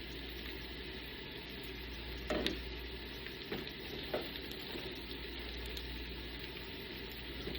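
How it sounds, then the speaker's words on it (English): Onions frying in oil at an outdoor cook-off, a steady close sizzle with a low engine-like hum underneath and a few faint clinks, no talking. "Put a little more oil in there. Time for my onions."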